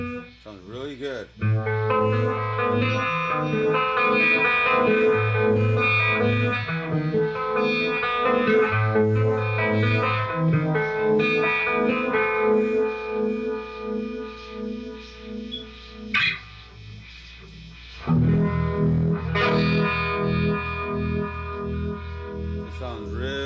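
Electric guitar plays through a homemade Uni-Vibe clone effect pedal, so dense warbling chords and riffs throb in a steady pulsing rhythm, loud and close, with a short pause and then a return to playing.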